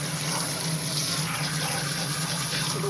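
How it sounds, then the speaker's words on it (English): Cool running water pours steadily over hand-dyed fabric during rinsing, a loud, continuous gushing rush from a tap with no pauses. "Rinsing in cool water."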